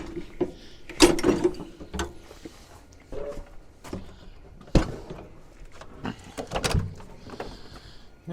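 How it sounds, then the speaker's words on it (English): Mechanical clunks, whirring and latch sounds come in bursts as a car's rear hatch is worked open, with scattered bumps and rustling between. "open the back of the car up"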